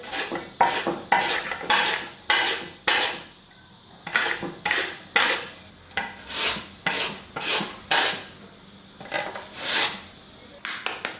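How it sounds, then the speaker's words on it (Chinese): Peeled potatoes are rubbed hard against a grater into fine shreds, a steady rasping scrape repeating in rhythmic strokes of about half a second, close and fairly loud. "接下来再把土豆刮成细丝。"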